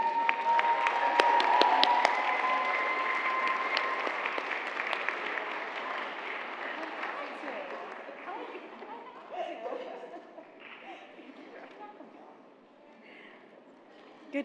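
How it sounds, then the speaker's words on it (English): A gala audience at a Voices Against Violence event bursts into sustained applause, loud and dense at first, with scattered laughter and chatter mixed in, then slowly thinning and fading toward the end. "Please join me in applauding the absolutely outstanding"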